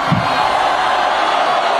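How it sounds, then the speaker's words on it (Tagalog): Crowd at an Iglesia ni Cristo event shouting and cheering, a loud continuous wash of voices with one brief low thump near the start. "naririnig niyo yung hiyawan na yon?"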